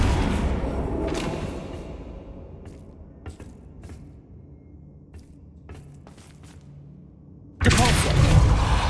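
A Flipendo spell impact from the Hogwarts Legacy video game lands as a sudden loud, full-bodied thud near the end, after a stretch of low rumbling ambience and a few faint scattered clicks.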